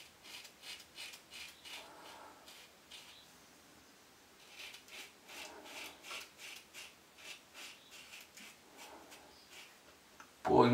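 An Ever Ready 1912 safety razor scrapes over stubble in quiet, close strokes. Short raspy bursts come in quick runs with pauses between them, and a louder knock sounds at the very end.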